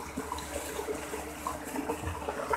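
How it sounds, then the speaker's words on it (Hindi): Water steadily pouring and splashing into a container during a farm mix of urea and acid for ammonium sulfate, a continuous soft rushing at moderate level with no speech. "और ये साथ साथ ये पानी इसके अंदर हमेशा आ रहा है, ये देखिए।"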